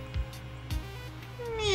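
A cat meows once in the video game Spelunky, a rising tonal cry near the end after soft low thumps, with no one talking over it.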